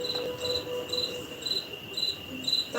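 Two crickets chirp in a forest, sounding a steady pattern of short, bright pulses about every half second over a faint background hum.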